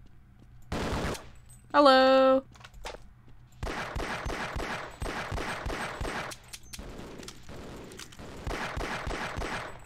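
Small gun firing in the Half-Life video game: rapid bursts of close, sharp shots repeat across the stretch, with a brief spoken word near the start.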